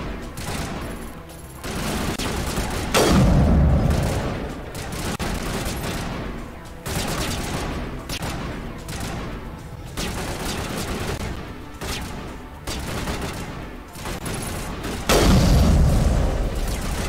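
Repeated bursts of gunfire in the Mass Effect game, Legendary Edition on Insanity difficulty, come in a steady fusillade with several heavier booming volleys near and loud, broken by short pauses.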